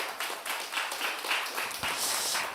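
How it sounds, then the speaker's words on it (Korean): Congregation clapping together during a Korean Sunday church service, a continuous, fairly even patter of many hands heard at moderate level for a couple of seconds. "박수 한번 우리 합시다."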